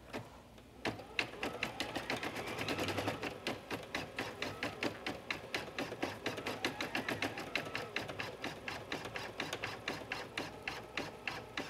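A sewing machine satin-stitching flower petals onto a sweater runs in a fast, even mechanical rattle of needle strokes for about ten seconds, close and moderately quiet, with no talking over it.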